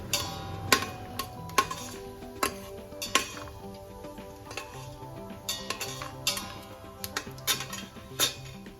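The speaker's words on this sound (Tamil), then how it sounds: "இப்போ நான் இதை வந்து சாட்டே மோடில் வச்சு ஆக்சுவலி இப்போ சாட்டே பண்ணிகிட்ருக்கேன்" Sautéing in an Instant Pot on sauté mode, heard as a run of metallic clinks and scrapes of a spoon against the inner pot, steady and close, with little sizzle beneath.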